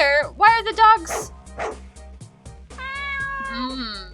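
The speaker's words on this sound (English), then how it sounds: "Such inconsistent barking." Dogs in a video game bark and yip in quick, uneven bursts, mixed with higher whining, meow-like cries. The sounds are close and loud, with short gaps between the calls.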